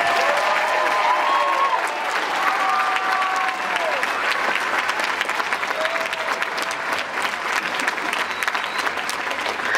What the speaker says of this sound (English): Can you give the two groups that played before this final group another round of applause?